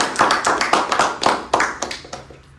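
Applause at a Toastmasters club event, a small group clapping with distinct individual claps audible in an uneven rhythm, close and fairly loud, thinning out toward the end.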